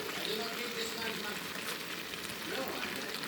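Pork belly frying in a pan for bangus paksiw, a continuous soft hiss and crackle throughout at moderate level, no talk.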